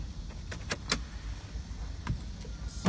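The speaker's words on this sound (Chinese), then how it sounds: "开电门，" A car's ignition is switched on with the key during pre-drive checks: a few sharp clicks and metallic key jingles near the start, then a later click and a brief whir, close by in a quiet cabin.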